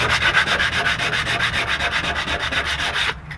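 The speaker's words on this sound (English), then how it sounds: "This is 100 grit sandpaper for like wood or something. It's just what I had laying around, and it's actually taking it off." Hand sanding with 100 grit wood sandpaper scrubbing undercoating off a car panel: a steady, close, rhythmic rasp of rapid back-and-forth strokes that runs continuously and stops abruptly at the end.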